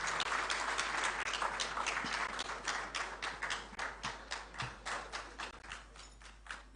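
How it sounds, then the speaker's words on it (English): Applause for the President of Ghana at a formal state event, a crowd clapping in a dense burst that thins into slower, rhythmic claps as it fades, heard at a distance and fairly quiet. "A round of applause, please."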